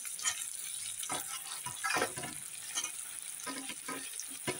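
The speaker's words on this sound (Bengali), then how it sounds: "আলু আর বেগুন একসঙ্গেই ভাজা হবে।" Potato and brinjal pieces frying together in a pan while being stirred: a continuous bright sizzle with scraping and rattling stirring strokes throughout, and no talking.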